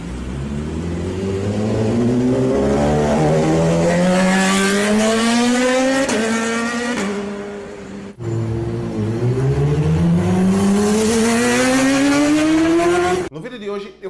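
Loud motorcycle fitted with a sport exhaust, revving hard in long rising and falling pulls, close and continuous for about thirteen seconds, with a brief gap partway through and a sudden cutoff at the end.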